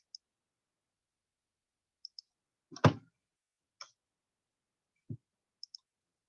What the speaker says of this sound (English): If you want to add a link within your shape, you would just go up here and click on this link.